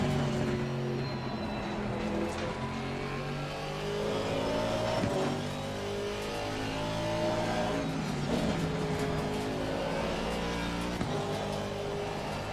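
An Aston Martin AMR V8 race car in Assetto Corsa Competizione at Kyalami drones steadily at high revs, its engine note rising and falling through gear changes and corners, loud and continuous with no talk.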